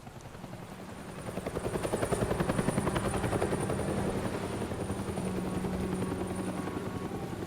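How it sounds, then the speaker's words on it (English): A helicopter at night in Gotham, rotor chop thumping steadily as it draws nearer and louder, then holding a constant whirring drone with no voices. "A helicopter in the night."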